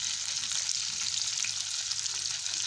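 Chicken vegetable rolls fry in hot oil with a dense, even, steady sizzle that stays loud and close for the whole stretch, with no voices.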